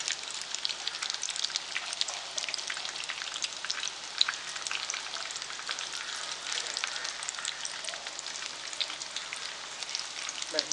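Chicken kebabs fry in a pan with a steady, crackling sizzle, close and even throughout, with fine popping spatters and no break in the sound.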